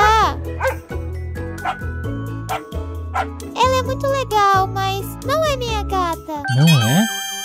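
A small dog barks and yips in quick bursts, loud and close, alongside a voice and light jingling tones in a playful indoor scene.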